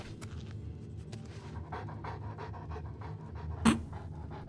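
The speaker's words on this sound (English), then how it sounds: "I can hear the doggo." A wolf pants steadily in the game Oblivion Remastered, a quick rhythmic huffing that repeats through the whole stretch and ends in one sharper, louder bark-like burst near the end.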